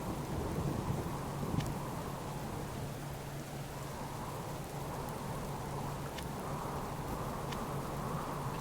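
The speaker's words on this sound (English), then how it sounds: "Wow, this storm is super, super noisy." Thunderstorm in the survival game Subsistence: steady heavy rain hiss with low rolling thunder rumbling throughout, loud and continuous with no voices.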